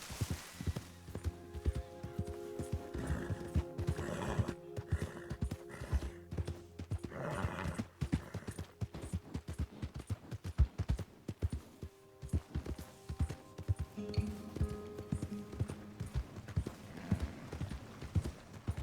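Horse hooves clip-clop in a steady, repeated rhythm in the Red Dead Redemption 2 game world, with a horse's whinny breaking in partway and almost no talk over the hoofbeats.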